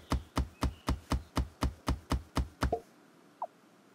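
Tree chopping for wood in the block-building game The Blockheads: ten or so evenly spaced knocking hits in a fast steady rhythm, then they stop, followed by a short rising tone and a faint click.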